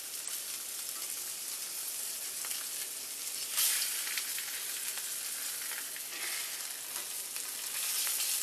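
Fish sizzles steadily in a hot pan during blackening, a dense crackling hiss with a brief louder flare partway through as a piece is flipped; close, no talk.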